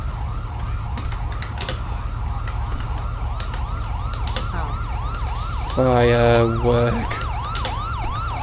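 A wailing video game ambulance siren rises and falls steadily over a low engine rumble, with a brief burst of another tone midway and a voice speaking briefly.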